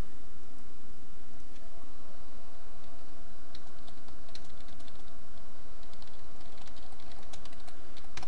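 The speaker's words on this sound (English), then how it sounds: "Sorry, I was just typing, that's why I had the random silence." Steady rapid typing on a computer keyboard, close and continuous, with dense clicking keystrokes and a faint background hum, no voices.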